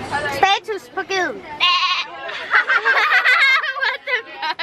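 A young person at a Danish boarding school imitates a goat with a run of wavering, nasal bleats, broken by short laughing bursts, loud and close with other voices around.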